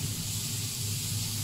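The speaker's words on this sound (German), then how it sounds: "Jetzt die Rinderstreifen in die Pfanne legen." Beef strips sear in a pan on full flame, giving a steady, even sizzle and hiss throughout, fairly loud and close with no talk over it.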